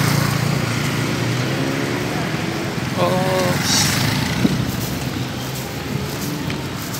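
A grass cutter runs steadily through a cemetery, its engine drone continuous and fairly close beneath people talking.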